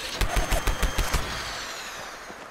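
Rapid burst of shots from the Pepper Shaker gun fired against a wall in the video game Fallout 76, about ten quick sharp reports in the first second and a half, then a fading tail.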